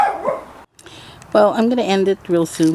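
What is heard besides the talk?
dog barking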